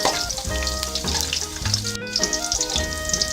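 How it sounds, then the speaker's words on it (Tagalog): Garlic sautés in a pan for a chicken curry, giving a steady close sizzle and crackle throughout, broken by a few clinks and soft stirring knocks, with no voices. "Gigisahin na natin itong bawang na to hanggang sa magkulay brown."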